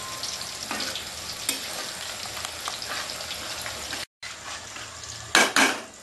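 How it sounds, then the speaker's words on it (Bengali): Chicken pakora fries in hot oil with a steady crackling sizzle, close up, broken by a brief gap and then louder bursts of stirring and spatula scrapes against the pan. "এটা আমি ভাজতে থাকবো একটু।"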